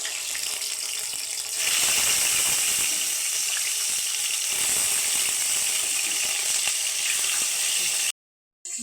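Fish coated in salt and turmeric fries in hot oil in a wok, a steady close sizzle and crackle that swells after a couple of seconds and holds continuously before cutting off near the end.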